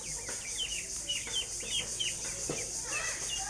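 Village chickens clucking and calling at a rural homestead in Bangladesh, a busy cluster of short, repeated clucks and squawks at moderate distance over a faint background hum, with no clear talking.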